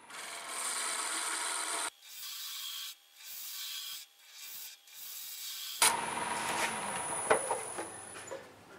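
Freshly sharpened woodturning tool cutting a wooden ornament on a lathe, producing continuous close scraping and shaving noise in bursts, with brief pauses and a steady motor tone between cuts.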